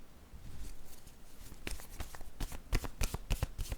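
Word cards handled by hand: a quiet papery rustle, then a run of crisp slaps and flicks that grows more frequent and sharper in the second half, close up.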